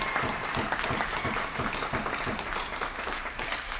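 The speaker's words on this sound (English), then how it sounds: "a little round of applause for these kids" A crowd at a varsity hockey game claps enthusiastically, a dense, even burst of applause that holds steady throughout.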